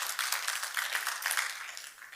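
Audience applause during a real estate investing seminar, a brief burst of many hands clapping, fairly soft and steady before tapering slightly at the end.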